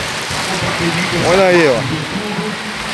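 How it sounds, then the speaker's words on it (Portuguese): Heavy rain pours onto a street in Agrestina, Pernambuco, during a clothing market, making a steady close hiss of falling water while someone talks over it. "A chuva está caindo forte aqui, nesse momento aqui na rua de Agrestina."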